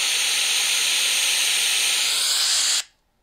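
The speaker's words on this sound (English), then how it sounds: "there is a bit of wind right now, and I don't have the furry wind protection on there" Wind buffets an unprotected on-camera microphone with no furry windscreen, producing a loud, steady roaring hiss up close that cuts off abruptly near the end.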